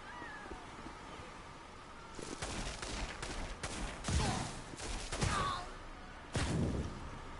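Gunfire in the video game Infamous: Second Son, with several bursts of shots ringing out over a few seconds, moderately loud against a quieter game background.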